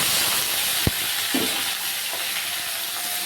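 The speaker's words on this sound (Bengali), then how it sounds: "হালকা শুটকি মাছগুলো একটু ভেজে নেব।" Dried loitta fish frying in oil in a kadai, a constant close sizzling hiss with a couple of brief scrapes and clinks from stirring, and no speech.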